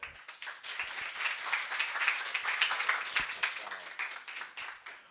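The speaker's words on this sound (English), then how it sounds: "let's give a big applause to our" Audience applause for Dr. Rex Bernardo at a lecture hall talk, steady dense clapping from a crowd that swells and holds for about five seconds.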